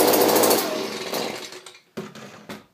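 A Stihl BG55 leaf blower engine revs loudly close by, then dies away, followed by two short blips of throttle that fail to build into a sustained rev.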